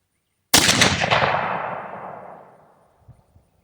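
A .270 Winchester rifle firing a cast bullet goes off in one sharp, loud crack. The blast echoes and decays over about two seconds, followed by a few faint knocks, with no talking.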